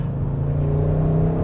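A 2021 Audi RS6 Avant's roughly 600-horsepower V8 pulls hard under acceleration, a loud, steady, deep engine drone heard from inside the car.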